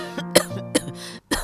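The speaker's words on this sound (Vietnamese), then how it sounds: "bà lại ho ra máu rồi" Elderly woman coughing in an animated Vietnamese fairy-tale cartoon, several harsh coughs in close succession, loud and near, with a brief pause before a final cough burst.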